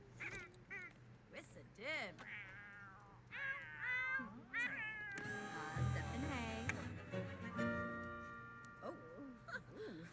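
Cartoonish meowing from a cat in The Sims 4 vet clinic, several rising and falling mews of varying length mixed with game sound effects and a chiming tone, partly under a person talking.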